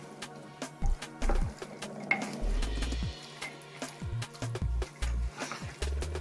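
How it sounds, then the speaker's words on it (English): Beans being stirred in a crock pot, a spoon scraping and knocking against the pot in irregular low bumps and swishes, fairly close and fairly quiet with no talk. "I'm going to stir all of this together."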